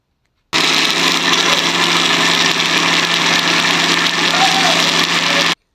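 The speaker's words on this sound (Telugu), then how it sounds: "ఇదే జార్లో వేసి మిక్సీ పట్టుకోవాలి" A mixer grinder whirs at a loud, steady pitch as it blends tomatoes and onions for a hotel-style masala brinjal curry, starting abruptly and running unbroken for about five seconds before cutting off.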